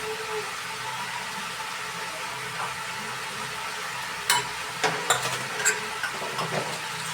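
Dry red chillies and cumin seeds sizzling in hot oil for a dal tempering: a faint, steady hiss of frying with a few sharp crackles and pops toward the end.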